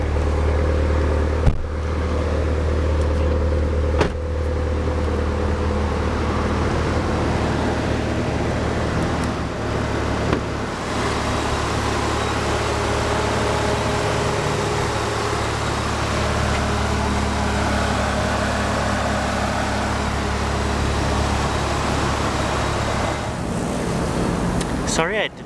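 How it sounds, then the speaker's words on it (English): A 2003 Mitsubishi Airtrek Turbo engine idles steadily with a low, continuous rumble, a faint whine riding over it, and a couple of brief clicks near the start. "I had to turn off the engine because it has a turbo"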